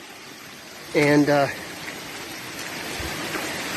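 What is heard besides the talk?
water running down a waterfall on a trail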